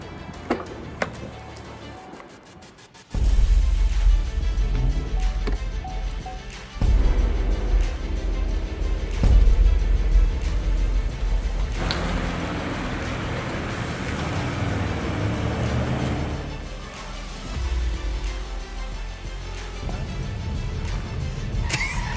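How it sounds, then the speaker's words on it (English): A car drifting down the winding curves of Lombard Street, its engine roaring loudly from a quiet start, surging and revving in uneven bursts, with no talking. "let's do some drifting in honor of Ash Lombard"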